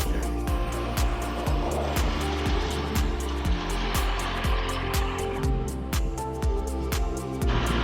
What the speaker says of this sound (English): Alas, followed by a car for the good bit.